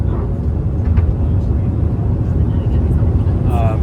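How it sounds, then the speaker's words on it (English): A long Boeing 757 airliner passes near an Arizona airport in a crosswind, heard as a steady, loud, broadband roar that stays even throughout, mixed with vehicle road noise. "757, the really long plane"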